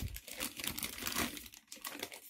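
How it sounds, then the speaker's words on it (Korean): Plastic film is peeled and crinkled off a Macross VF-31J Siegfried model kit, giving close, dense rustling and crackling that stays loud for about two seconds with brief dips. "비닐 잘 벗겨 주시면요."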